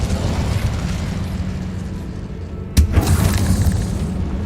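Incendio fire spell cast in the video game Hogwarts Legacy inside a tomb: a sharp burst flares up over a rumbling ambient bed, followed by a crackling, whooshing fiery tail.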